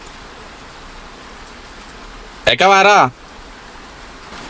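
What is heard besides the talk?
rain falling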